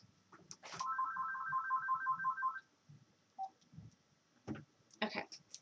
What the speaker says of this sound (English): Sorry, excuse the phone.